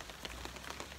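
Rain falls steadily outdoors in a short burst, a dense patter with scattered sharper drops hitting a surface, continuous and fairly close.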